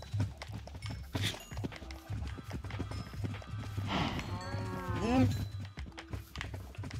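Cows moo in Minecraft, with a couple of drawn-out, wavering calls near the middle, over hollow clopping steps, while a person talks.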